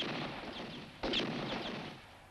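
A single pistol gunshot in a western film, a sharp crack over a noisy, busy background soundtrack.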